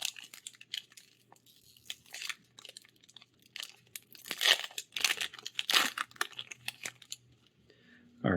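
A Magic: The Gathering Phyrexia: All Will Be One booster pack being torn open and its wrapper crinkled: close, irregular crackling and tearing bursts that grow busier midway, with no voices.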